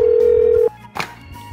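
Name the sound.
telephone ringing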